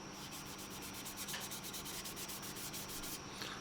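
Fine sandpaper rubbing Mr. Surfacer primer on a plastic model aircraft wing, rapid rhythmic back-and-forth scratching strokes, close and quiet, with no talking.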